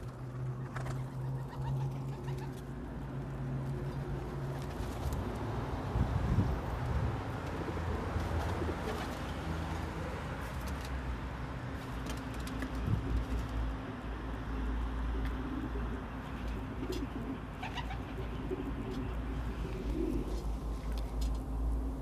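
Urban rock pigeons (Columba livia) coo in low, rumbling phrases over a steady background hum, the calls soft and continuous with occasional faint clicks and distant noises.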